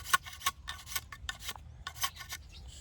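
A bamboo strip for a kite being scraped with a blade, giving repeated short rasping strokes in an uneven rhythm, close but fairly quiet, with no talking.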